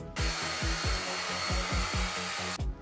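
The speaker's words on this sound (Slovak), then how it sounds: "Toto je fén." A styling hair dryer with interchangeable heads runs steadily with a whooshing airflow hum and a low rhythmic pulsing beneath it, loud and close, then clicks off at the end.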